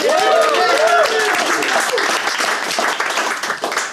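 An audience at a talk on growing a new generation of farmers claps for a guest speaker, loud sustained applause with some cheering voices early on, tapering slightly toward the end.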